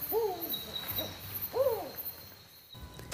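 A black owl with red eyes from the humid tropical forests of South America gives two deep, wavering hoots about a second and a half apart, close and clear over faint insect buzz.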